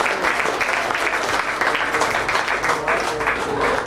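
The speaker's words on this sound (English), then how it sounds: "let's give all these exhibitors a round of applause." A crowd at a county fair swine show claps throughout for the exhibitors, a steady mid-distance round of applause with no talking over it.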